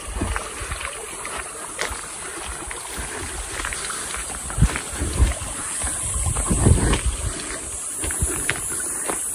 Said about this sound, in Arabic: أصوات هدوء صوت المي والهدوء